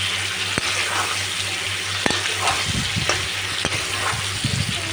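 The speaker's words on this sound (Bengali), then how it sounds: "আলুটা ভাজা বসিয়ে দিয়েছি" Potatoes fry in a pan with a continuous close sizzle, broken by a few sharp clicks and scrapes from stirring.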